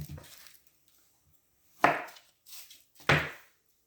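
A knife cutting an onion in half for hamburger steak in onion gravy: a few sharp chops against a cutting board, close and crisp, separated by short silences.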